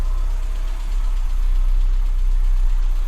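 A 6,000-mile Metro car engine, started for the first time in years, idles with a loud, steady low rumble, close and unbroken, with no voices.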